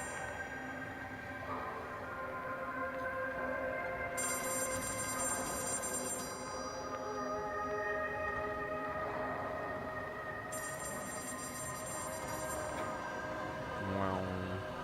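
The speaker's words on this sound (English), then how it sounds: "That's the phone." A telephone rings in two long trilling bursts of bright bell tones over continuous background music and sound.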